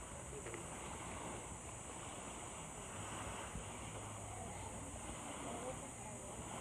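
Faint, steady wash of sea waves at Camayan Beach, a continuous broadband surf roar with wind rumble on the microphone, distant and low in level with no distinct individual breakers.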